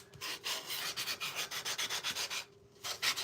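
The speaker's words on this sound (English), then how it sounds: "I don't care if I kind of sand some of that off as well" A thick 10-inch wooden round sanded by hand, with quick, rhythmic back-and-forth rubbing strokes, close and soft, pausing briefly before a few more passes; nobody speaks.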